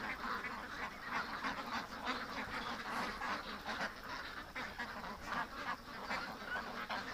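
Ducks quack and honk in a dense, continuous chatter from a small flock nearby, faint overall but busy and overlapping throughout.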